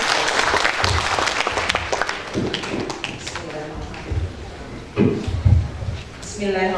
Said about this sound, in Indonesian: Kita beri aplaus 1 kali lagi untuk Bu Nina.